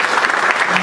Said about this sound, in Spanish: Un aplauso para nuestro conferencista.